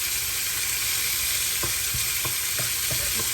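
Red and green peppers with onions sizzle steadily in a hot pan, a dense continuous fry broken by several soft, evenly spaced scrapes and stirs from a utensil, close and fairly loud with no talking.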